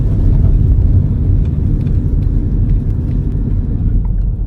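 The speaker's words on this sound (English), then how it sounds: "Put it in gear and we pedal our way to the racetrack." A FitCar PPV pedal car, an adult-sized pedal-powered vehicle, rolls along on its way to a racetrack, giving a loud, steady low rumble of tyres and drivetrain that stays close and continuous.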